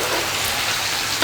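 Vegetables cook in a hot pan with a steady, soft, even sizzle and no talking.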